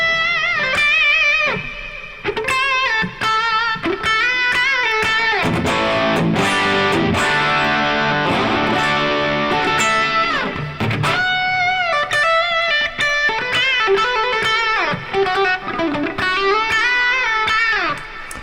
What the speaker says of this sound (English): the idea of this delay is to have like more of like a reverb effect and delay all in one